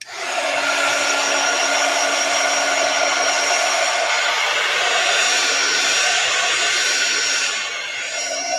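A hand-held heat tool or dryer blows steadily over freshly stencilled craft paint, a loud, continuous whooshing roar that stays level for several seconds and then eases slightly near the end, with no talking.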